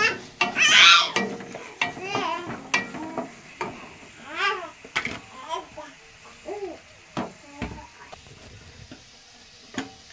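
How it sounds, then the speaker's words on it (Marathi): River fish curry masala is stir-fried in oil with repeated scraping and clattering strokes of a spatula against the pan over a low sizzle, while a child babbles in the background. "चांगलं मस्त तेल सुटेपर्यंत परतून घ्यायचं।"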